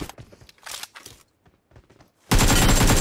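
Loud, continuous burst of automatic gunfire in a shooting video game, erupting suddenly after quieter footsteps and shuffling movement, close and dense until the end.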